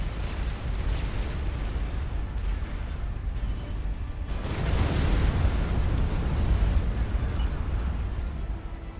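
Explosion of a power generator in the strategy game Supreme Commander, set off by a massive death beam: a sustained, loud rumbling blast that swells to a heavier roar midway, dense low-end noise filling the whole stretch with no voices.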